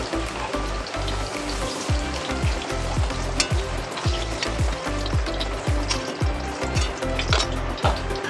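Potatoes fry in hot oil in a wok, giving a steady, loud sizzle with repeated scraping strokes of a spatula throughout.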